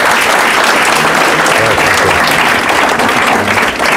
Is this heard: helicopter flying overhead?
no